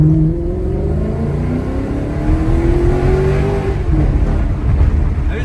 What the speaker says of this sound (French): dernière accélération.